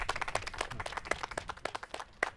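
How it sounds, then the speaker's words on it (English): Small group clapping together in a room, quick irregular claps of moderate loudness with a few louder individual slaps, briefly and without speech. "We can clap that one up."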